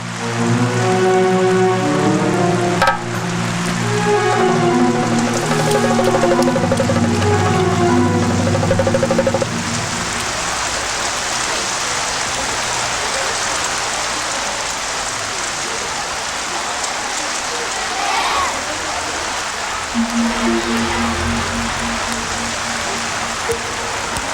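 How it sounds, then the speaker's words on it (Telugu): Heavy rain pouring onto a leaking tiled school roof, a dense steady hiss of drops that carries on throughout, with tonal music-like sound over the early part and briefly again near the end. "ఇలా వర్షం పడితే అందరికీ కష్టమే"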